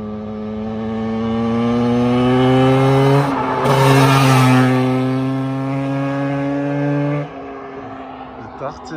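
A quad bike engine revs loudly nearby, its pitch climbing and holding in sustained roars before dropping off, with voices talking over it.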